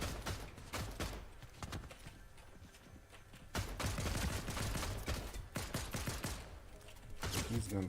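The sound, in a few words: gunfire from a video game in a watched video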